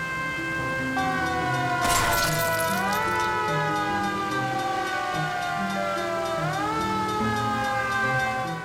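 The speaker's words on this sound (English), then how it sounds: "This is a really terrible siren." A police car siren in the game L.A. Noire Remastered wails loud and continuous, its tone sliding up and down in repeated sweeps, with a brief burst of crackling noise early on.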